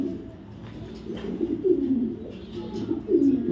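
Club racing pigeons coo close by in soft, repeated throaty rolls, several calls overlapping against a low background murmur.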